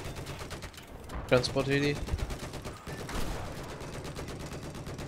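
Bursts of automatic gunfire in a multiplayer shooter video game, rapid rattling shots running almost continuously under excited player voice chat.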